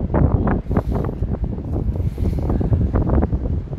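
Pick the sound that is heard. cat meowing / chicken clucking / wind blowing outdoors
wind blowing outdoors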